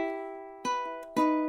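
Ukulele picking the opening notes of Carol of the Bells: a held plucked note followed by two fresh plucked attacks, quiet and close with no voice.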